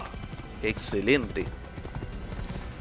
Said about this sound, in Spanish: puedo cambiar de caballo en cualquier momento